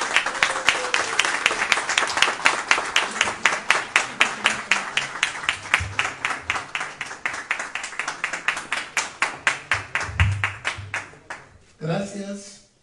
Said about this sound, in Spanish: aplauso a Esteban Cabrera.